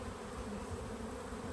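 Honeybees buzzing steadily inside an open hive as worker bees move across a frame, a continuous close hum with no break and no voices.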